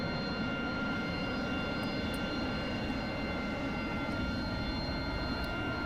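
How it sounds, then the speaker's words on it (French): An AV-8B Harrier jet engine roars steadily and loudly at close range, a dense continuous whine and rumble holding constant throughout with no speech. "C'est un très bel avion."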